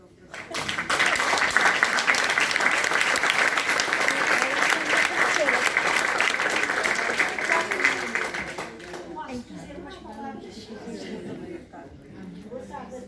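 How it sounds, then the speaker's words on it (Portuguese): An audience at a book launch gives a long, loud round of applause, dense steady clapping that fades after about eight seconds into scattered claps and murmuring voices. "E gostava que os professores que estão aqui, que foram professores da história, dessem uma grande salva de palmas pelo trabalho."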